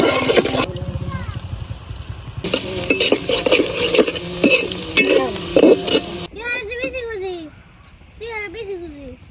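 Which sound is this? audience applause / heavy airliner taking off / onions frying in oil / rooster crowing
onions frying in oil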